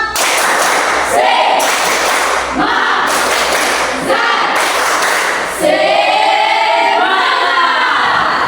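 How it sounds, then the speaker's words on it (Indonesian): A classroom of students does a patterned spirit clap together, with bursts of synchronized clapping in repeating blocks and group voices chanting along between and over the claps, loud and close. "Kita tepuk tangan, tepuk semangat sekali lagi."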